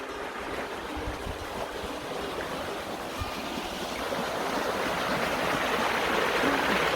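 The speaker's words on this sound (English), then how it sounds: "and here is a beautiful creek." Creek flowing somewhere below out of sight, a steady, full rushing wash of water that holds constant and swells slightly toward the end, with no voices over it.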